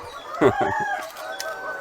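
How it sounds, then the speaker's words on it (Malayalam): Several VV380 layer hens cluck and squawk in short, overlapping calls, fairly close and moderately loud, with a busy coop-like background. "ഇത് VV380 എന്ന് പറഞ്ഞൊരു ഇനത്തിൽപ്പെട്ട കോഴിയാ"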